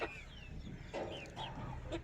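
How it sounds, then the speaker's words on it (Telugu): Young Parla breed chickens, four to five months old, clucking close by, with several short calls and higher chirps in quick succession and no talk. "అన్ని పర్లా పిల్లలే చూసుకోండి"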